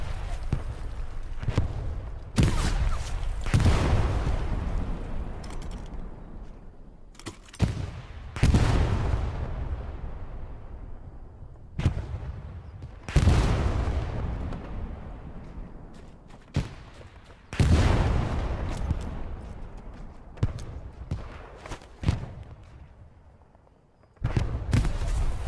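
Repeated explosions from the video game Hell Let Loose, grenades going off as loud booming blasts with long rumbling decays, interspersed with sharper gunfire cracks, the bursts spaced irregularly over the whole stretch.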